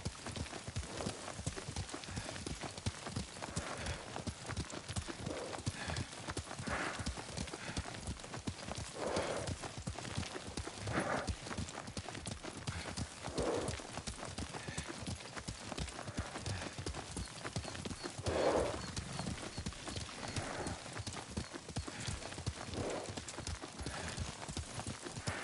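Horse hooves clip-clopping steadily at a riding pace in a video game, an even rhythmic clatter running throughout at moderate level, with an occasional faint whinny and no talking.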